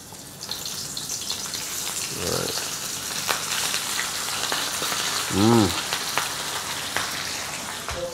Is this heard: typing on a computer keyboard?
no